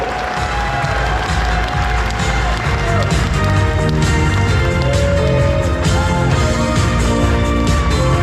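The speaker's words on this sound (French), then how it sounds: "applaudissements, allez-y, allez-y" Festival audience at the international Pom's d'Or festival applauds and cheers steadily throughout, a dense, loud crowd wash with clapping and music-like tones underneath and voices mixed in.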